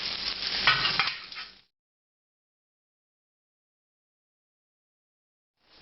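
Ribeye steak sizzling in butter in a pan, a bright crackling hiss that swells for about a second and a half, then cuts to silence before a faint return at the very end.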